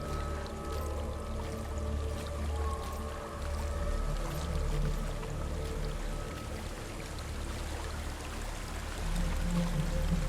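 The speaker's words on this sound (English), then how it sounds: "There's a waterfall." A waterfall roars steadily in the game Hellblade, a continuous broad rushing wash with slight swells, heard alone without voices.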